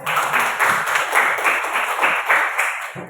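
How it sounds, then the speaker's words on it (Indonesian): A classroom group claps during an Islamic religious lesson, a brisk rhythmic burst of hands beating together in quick pulses for about three seconds, with no speech over it. "Tepuk tangan dulu"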